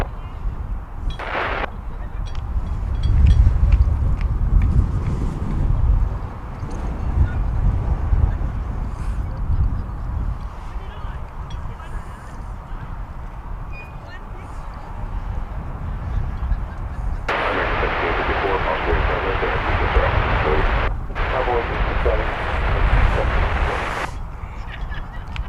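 American 61, a heavy airliner bound for Tokyo, takes off from DFW with a deep, rumbling jet roar that swells and fades, while voices and radio chatter come and go over it.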